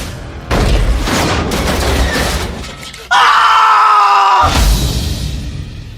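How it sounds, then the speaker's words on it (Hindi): A loud crash and heavy thud of a wardrobe toppling onto a man, followed by his sustained high scream that cuts off abruptly, then more crashing debris. "कि वो उस अलमारी के अपने ऊपर गिरने से पहले वहां से हट नहीं पाया। सुनाई दी तो बस आरिफ की एक आखिरी चीख।"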